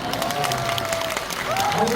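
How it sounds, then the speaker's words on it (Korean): Crowd in a Megabox cinema hall during a stage greeting breaks into applause, a busy mix of clapping and cheering with a voice talking over it. "아쉬운 마음을 담아 큰 박수 한번 보내습니다"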